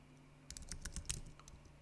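Quiet, quick burst of computer keyboard typing, a cluster of crisp key clicks lasting about a second, close by and alone.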